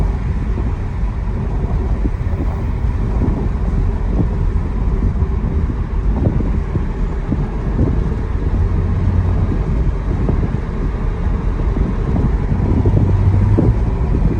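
A 2006 Mercedes SL500 on Neomax coilovers cruising along a road, giving a steady, loud, dense rumble of tire roar and wind buffeting that holds constant throughout, with no talking.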